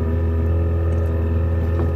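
A sailboat's outboard motor runs at a steady idle, its low humming drone holding constant and close by, with no voices.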